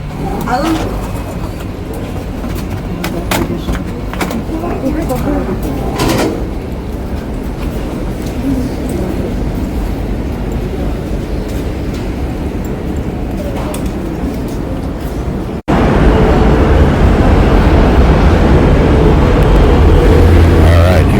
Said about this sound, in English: Comes the 7 train.